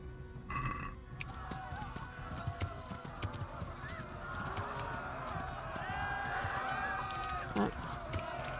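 Horse hooves clip-clopping at speed in the medieval video game Kingdom Come: Deliverance, a continuous rapid gallop under game ambience with occasional voices and a snort.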